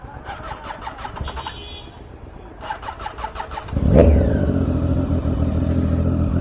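A Triumph Daytona 675 superbike engine starts with a sharp catch after a few seconds of cranking and rattling, then settles into a loud, steady idle close by.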